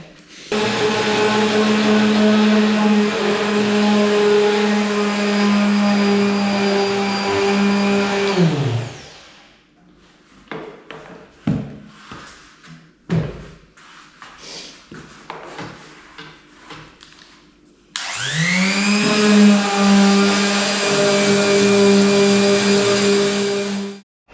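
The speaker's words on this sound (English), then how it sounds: "This is rounding off nicely with a little palm sander." A small electric palm sander rounds off the edges of a custom-made wooden table, its steady high whine running loud and close for several seconds, stopping amid scattered knocks and handling sounds, then starting up again.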